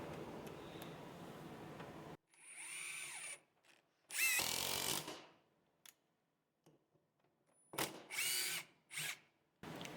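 A Metabo HPT 18V triple hammer impact wrench in power mode fires in several short, sharp bursts of high whirring and hammering, separated by silent gaps, close and fairly quiet with no talk.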